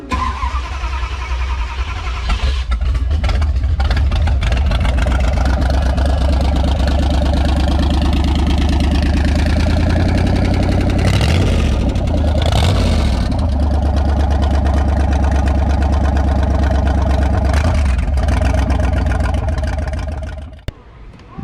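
A classic car with fuel injection and six Stromberg carburetors starts at an outdoor car show and settles into a loud, rumbling close idle with a few blips of revving, running steadily until it cuts off near the end.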